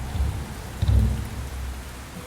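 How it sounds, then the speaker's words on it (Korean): Heavy rain pours steadily, with a deep low rumble swelling briefly near the middle. "빗소리가 이 모든 걸 덮어줄 테니까."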